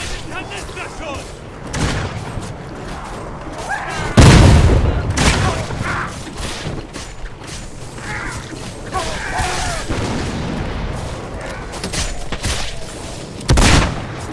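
Canister shot from a cannon in the Guts and Blackpowder game, heard as repeated loud booming blasts with crackling gunfire mixed in, sharpest near the middle and again near the end, beneath shouted commands.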